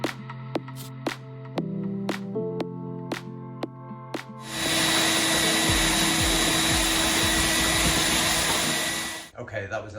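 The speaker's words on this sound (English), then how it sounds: "that was the last vacuum" Vacuum cleaner running inside a small 4x4 camper van build, a loud steady whine after several knocks and taps, continuing for about five seconds before cutting off abruptly.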